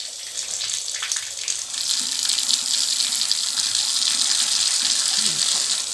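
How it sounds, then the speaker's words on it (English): Water gushes steadily from a household tap into a hose, a continuous loud hiss of running flow that builds slightly and holds, with faint handling noises beneath and no talking. "I'm just gonna turn the water on."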